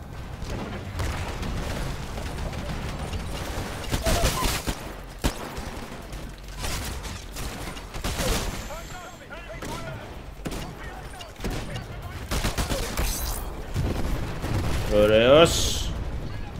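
Gunfire and explosions rage through a Titanfall Battle of Attrition match: dense, continuous shooting with repeated booming bursts, loud throughout and building toward the end, while someone talks over the action.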